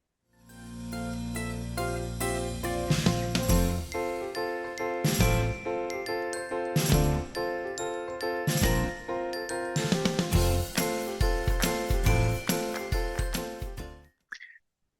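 Short bright intro jingle for a French podcast, built from chiming tinkly tones over a steady bed of music. It runs about fourteen seconds at a full, even level with rhythmic accents, then stops cleanly with a brief final flourish.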